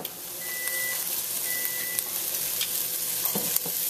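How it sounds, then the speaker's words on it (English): Half a pound of char siu heating through in a pan, with a steady close sizzle and frying crackle, a few faint clinks and beeps in the background, and no talking. "We're going to heat that through."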